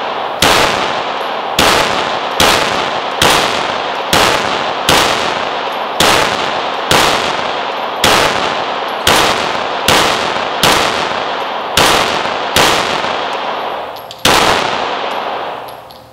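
Loud, sharp pistol shots from a model 17 at a shooting range, about a dozen single reports fired at a steady pace roughly one per second, each ringing briefly before the next.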